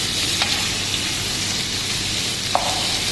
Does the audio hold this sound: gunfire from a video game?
no